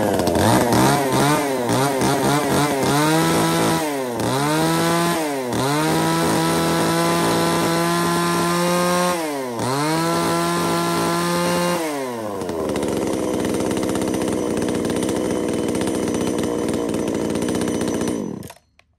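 A Tanaka chainsaw, a Japanese domestic-market model, runs close by, its two-stroke engine revving up and down in repeated surges before holding at a steady, rough high-speed drone that cuts off at the end.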